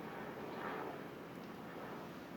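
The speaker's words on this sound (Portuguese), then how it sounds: "Opa, helicóptero aí." Faint distant rotor and engine drone of a helicopter passing overhead, a low steady rumble swelling slightly then fading, heard alone and without talk.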